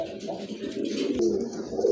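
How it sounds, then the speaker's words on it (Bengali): A big pair of pigeons, a male and a female, coo continuously at close range, a low throaty murmur with soft bubbling pulses and no talk. "এই যে দেখেন বিগ সাইজের এক জোড়া কবুতর কিন্তু মাশাআল্লাহ"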